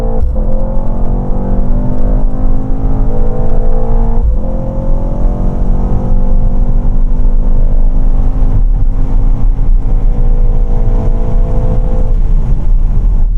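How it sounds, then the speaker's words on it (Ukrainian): A Mercedes car engine roars loudly as it accelerates hard, pitch climbing steadily with brief dips at gear changes, close and continuous throughout. "Це був непоганий розгін."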